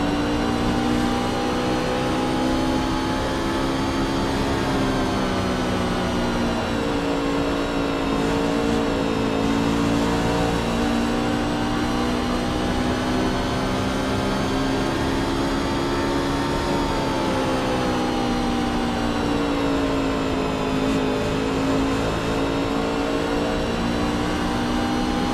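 Racing truck engine on a lap around Iowa in a racing video game, a loud continuous in-car drone with gentle pitch rises and dips through the corners, steady for the whole stretch, no talk.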